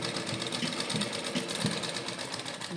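Sewing machine stitching lace onto a sleeve cuff, running in a steady fast whirring hum with slight rhythmic pulsing throughout, close and continuous with no talk.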